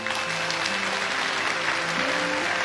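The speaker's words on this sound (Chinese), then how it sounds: "赞同此理的鼓掌" An audience applauds in a loud, continuous round of clapping with a sustained musical tone running underneath.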